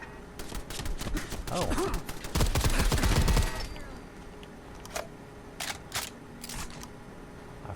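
Turret gunfire in Fallout 4: a dense rattle of shots for about three seconds, then a few scattered cracks over a steady background hum, with a brief spoken exclamation at the start.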